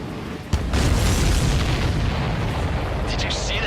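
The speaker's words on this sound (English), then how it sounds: "Did you see that explosion?" A heavy missile explosion in the combat flight game Ace Combat 7, where a supply ship is hit, bursts in with a sharp onset and leaves a loud, sustained rumbling roar. A brief radio voice cuts in near the end.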